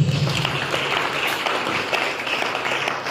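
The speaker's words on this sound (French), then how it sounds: "Acclame pour Jésus-Christ." A church congregation applauds at a worship service, with dense, steady clapping throughout.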